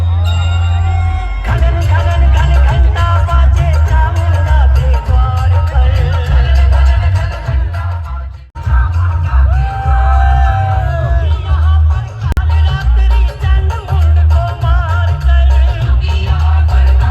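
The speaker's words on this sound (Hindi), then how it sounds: "देख रहे हैं आप लोग कितनी भीड़ है यहाँ पे।" A large crowd of devotees gathers for a Navratri aarti at Shivam Lodge in Bulandshahr, with loud continuous hubbub, scattered shouts and whoops, and heavy low rumble, briefly cutting out midway before resuming.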